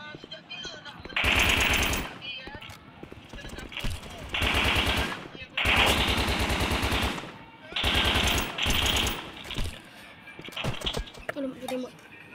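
Bursts of automatic gunfire from a mobile shooter game played in Blockpost, coming in several loud sustained volleys with short gaps, while a player talks over and between them.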